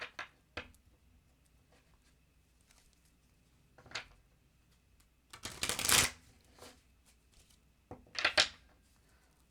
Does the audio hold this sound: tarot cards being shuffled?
yes